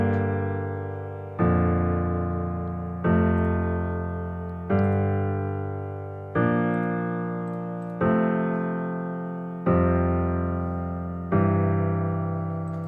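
A melodic dubstep chord progression in G built in FL Studio: eight sustained synth chords, each struck firmly then slowly fading before the next, in an even, unhurried rhythm with no voices.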